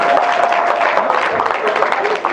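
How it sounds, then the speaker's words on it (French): A comedy show audience applauds, steady clapping blending with crowd noise and a few voices, filling the whole moment. "On applaudit pour le conseiller s'il vous plaît."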